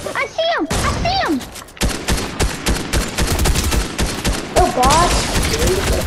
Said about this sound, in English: Cause they're shooting at us.